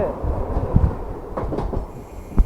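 A Mumbai local train rumbles past a long station platform, a broad steady roar with a few clanks and a brief wheel squeal near the end, fairly loud.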